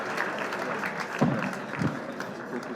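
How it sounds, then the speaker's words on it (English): An audience at a formal corporate governance anniversary event in Nigeria claps steadily, a dense sustained round of applause from a large room. "Can you give me a round of applause?"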